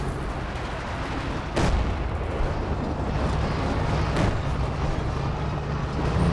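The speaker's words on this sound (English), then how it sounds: "Dropping in the fear propaganda artillery." Two sharp artillery impacts crack through a constant rumble of battle in the strategy game Company of Heroes 2, a shelling barrage from fear propaganda artillery landing a couple of seconds apart.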